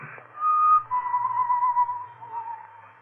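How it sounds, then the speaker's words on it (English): Lone, wavering human whistle drifts through an empty building at night, a thin sustained tune that slides gently in pitch for about three seconds, fairly close and clear against silence. "The whistling was somewhere in the building."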